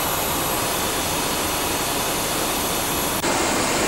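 Inside the cockpit of an Antonov 124-100 cargo jet cruising near 30,000 feet at about 460 knots, a loud, steady broadband roar of engines and airflow fills the space without pause.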